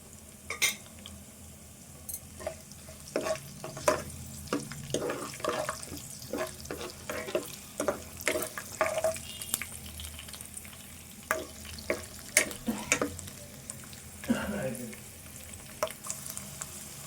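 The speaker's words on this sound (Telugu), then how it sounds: "కొంచెం శనగపప్పు ఇవన్నీ కూడా దోరగా వేపుకోవాలి" Chana dal roasts in a pan for drumstick chutney, with soft sizzling and frequent clinks and scrapes of stirring at close range, no talk.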